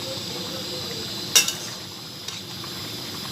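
A frying pan of food is stirred, with a low continuous sizzle and one or two short clinks of a utensil against the pan midway through.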